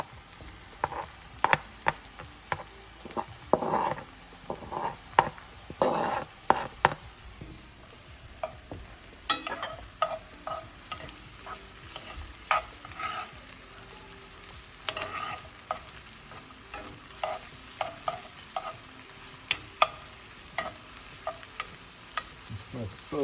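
Garlic frying with peppers in a pan for Jamaican ackee and saltfish gives a steady soft sizzle, broken by frequent scraping and clicking stirs from a utensil, moderately quiet and close, with no talking.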